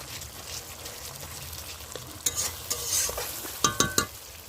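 Fish fat fries down with tomatoes in a pan as a continuous sizzle runs under several sharp scraping clatters of a spatula stirring, growing busier toward the end.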